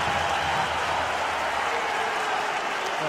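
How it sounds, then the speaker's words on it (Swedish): Crowd at an ice hockey game between Rögle and an opponent, a dense, steady roar of cheering and applause filling the arena for a few seconds. "Kommer armen upp och då jublas det."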